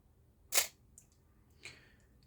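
A Minolta XG-E film camera fires its shutter at 1/1000 second, one sharp close mechanical snap followed by fainter clicks of the mechanism resetting in a quiet room.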